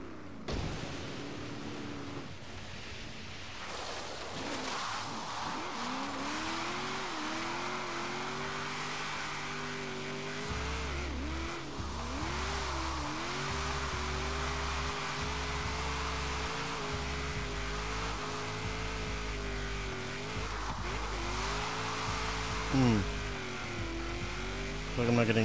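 A '95 SVT Cobra in Forza Horizon 3 drifting with wheel spin, engine droning and revving steadily with pitch sweeps and tire noise throughout, continuous and close, with no break.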